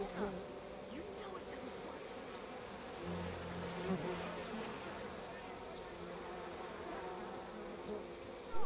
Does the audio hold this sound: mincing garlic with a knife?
no